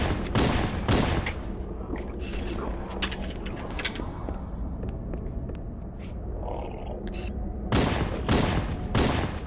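Bursts of machine-gun fire from the Halo: Combat Evolved shooter, with dense rapid volleys at the start and end and scattered shots and mechanical clatter between, loud and with no talk over it.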